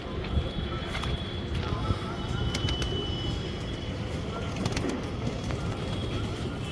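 Pigeons kept by a fancier coo softly and continuously amid a dense, noisy backdrop of flock sounds, with scattered chirps and faint background voices.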